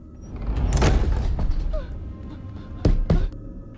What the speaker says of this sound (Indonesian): Ujuk-ujuk saja pintu tertutup dan terkunci sendiri.